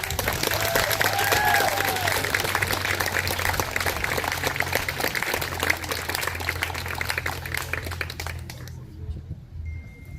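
A crowd at an outdoor vigil in Lewiston, Maine applauds the speakers, sustained clapping over a low steady hum with a few voices mixed in, fading out near the end.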